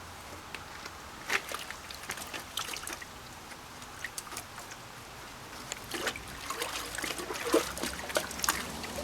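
Water trickles and splashes quietly as gold sluice mats are rinsed out. Soft irregular drips and small splatters continue for several seconds, close but faint.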